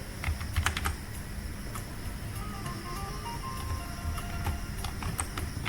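Rapid, uneven keystrokes on a computer keyboard while entering a login error alert message in JavaScript code, close and clear over a low steady background hum, with no talking.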